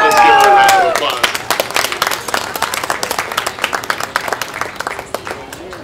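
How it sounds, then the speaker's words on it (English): An audience at a livestock show applauds the winning heifer, with dense, close clapping following a brief voice that soon thins into scattered claps over several seconds. "Let's give her a round of applause"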